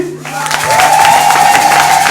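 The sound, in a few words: audience applauding in church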